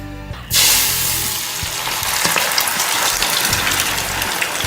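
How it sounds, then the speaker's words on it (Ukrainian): A sudden loud sizzle bursts in as potato and egg hit hot oil, continuing as a steady hissing, crackling fry, with occasional pops and spatters throughout. "Просмажую під кришкою приблизно 15-20 хвилин."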